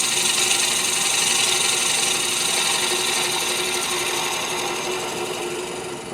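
A wood lathe turns cocobolo at about 1500 RPM, giving off a steady, even hum with a faint rubbing hiss that holds close and constant throughout, with no voices.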